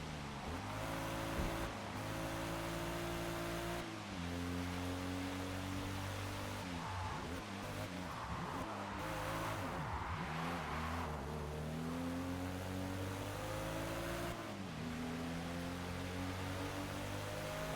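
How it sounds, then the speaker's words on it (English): Car engine in the Forza Motorsport racing game on Xbox Series X, a retro tuner car, droning steadily with shifting revs and gear changes throughout, loud and continuous with no talking. "Why does it sound like the engine is coming from behind?"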